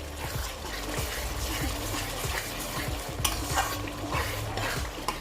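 Spice masala stirred and fried in a pan for a non-veg matar ghugni, with a steady close sizzle and repeated scraping stirs of the spoon running throughout.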